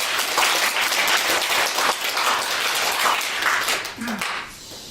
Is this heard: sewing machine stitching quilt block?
no